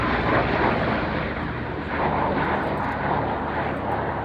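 A propeller aircraft flies a display at an air show, its engine giving a continuous loud drone with slight swells, heard alone without talk.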